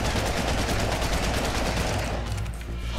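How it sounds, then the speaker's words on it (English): Sustained, dense burst of automatic assault rifle fire aimed at a T-Rex in Ark: Survival Evolved, loud and continuous rapid shots that ease slightly near the end, with no voices. "I'm gonna unleash a full clip on this bad boy. Assault rifle versus T-Rex!"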